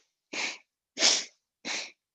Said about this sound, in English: turn to your left and inhale through your nose, and then turn to your right and exhale through your nose